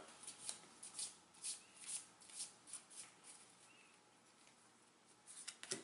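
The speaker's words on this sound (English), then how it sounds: "Oh, I have to shuffle." A deck of game cards for a Buffy the Vampire Slayer deck-building game is shuffled by hand, giving quiet, repeated riffling bursts at a roughly regular rhythm, close and faint, with no talking.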